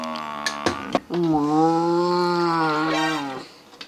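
A person imitates a cow, holding one long, low mooing note for a couple of seconds after a few short clicks and breaths.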